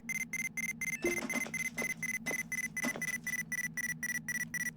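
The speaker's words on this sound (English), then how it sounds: "Sorry about the proximity alarm going absolutely haywire." Proximity alarm in the space game Ostranauts, a rapid, steady train of electronic beeps repeating in regular pulses throughout, with brief indistinct sounds in the background.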